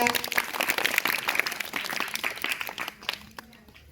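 Applause breaks out for a correct answer at a school quiz competition, a dense burst of clapping from a group of pupils that stays strong for about three seconds before fading away.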